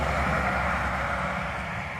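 Semi truck rolling past on a rural Kansas highway, a broad steady roar of engine and tire noise at moderate distance filling the whole moment, with no voices.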